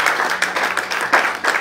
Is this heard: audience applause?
yes